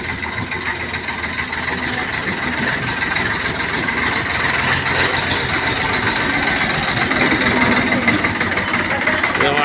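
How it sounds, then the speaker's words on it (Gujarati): A heavy tractor engine rumbles steadily and loudly throughout in a village at evening, a continuous throbbing drone with vibration, as if close by. "કાલાભાઈને ટ્રેક્ટર હવે આવ્યું"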